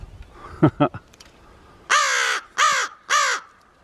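A wet crow gives three loud, harsh caws close by in a snowy yard, preceded by a few shorter, quieter calls, with no talking during the calls.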